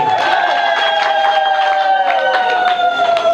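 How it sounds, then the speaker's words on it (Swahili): A lively crowd at a wedding celebration claps and cheers for the bride's mother, a short, dense burst of applause and shouts with a sustained high tone running through it. "Makofi kwake."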